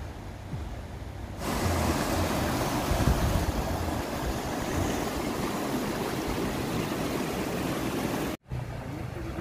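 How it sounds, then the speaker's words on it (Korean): Rushing water roars as a steady broadband wash, heard from just above Düden Waterfall in Antalya, loud and continuous after a brief quieter start, with no talking. "요 아래가 두텐폭포네요."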